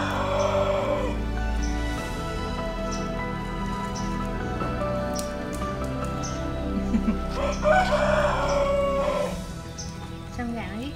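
A rooster crows twice in a rural Tiền Giang setting, a loud drawn-out call at the start and another around the middle, over steady rain-like patter and low background noise.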